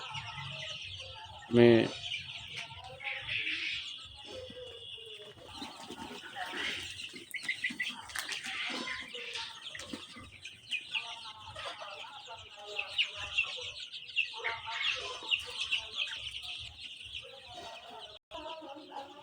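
Chickens cluck and chatter on and off throughout, with a sharper squawk early on, against a faint background of other farm noise.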